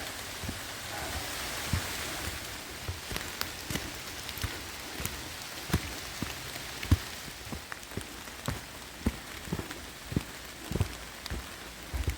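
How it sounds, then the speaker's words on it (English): Heavy rain pours down on the Appalachian Trail in Dalton, Massachusetts, with a constant hiss, scattered with sharper drips and taps landing nearby. "The rain is back, and this time it's pretty heavy."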